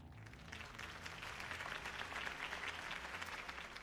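Crowd applause in the Batman Telltale video game, a dense, even wash of clapping that holds steady throughout, without talk.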